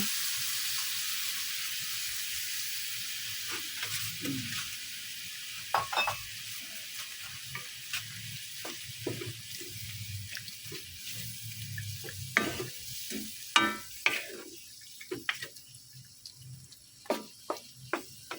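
Coconut milk going into a pan of Bicol express binagoongan, with stirring and sizzling frying sounds, scattered clicks and scrapes of a utensil growing busier toward the end, no talking.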